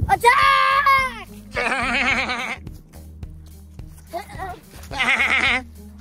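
A goat bleats loudly and close by in three drawn-out wavering cries on a farm, with gaps between, while children and adults talk and shout around it.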